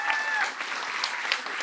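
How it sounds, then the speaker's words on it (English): An audience applauds a winning team at a challenge finals event, steady dense clapping under a brief voice for about two seconds. "big round of applause"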